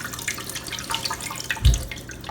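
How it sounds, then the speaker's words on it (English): Tap water runs into a container to measure about 16 ounces for a post-workout protein shake, a steady soft trickle with a brief louder splash near the end, no talking. "So go ahead and pour you about 16 ounces of water."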